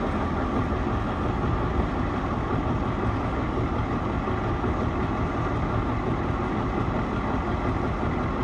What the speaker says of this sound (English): we're trying to use the donkey engine to start the main engine hydraulically